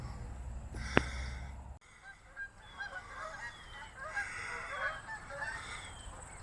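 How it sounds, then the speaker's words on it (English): Geese honk in a loose outdoor chorus by a roadside, their calls scattered and fairly faint after a brief sharp click. "even the geese is saying"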